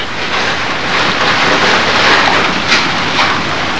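Strong wind roars and buffets steadily, a dense, unbroken rush of noise with a few louder gusts.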